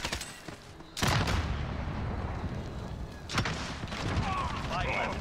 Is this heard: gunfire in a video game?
yes